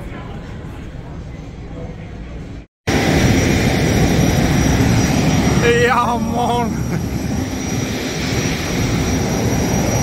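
A private jet's engines roar loudly and continuously at a small Colorado airport, a broad, steady wash of close engine noise with a brief cut near the start, while a person speaks briefly over it.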